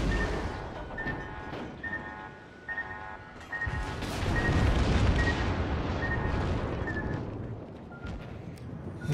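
Torpedoes strike a Royal Navy Warspite battleship in World of Warships, setting off deep booming explosions that roll into a long, moderately loud rumble, with a repeating alarm-like tone and scattered sharp pops.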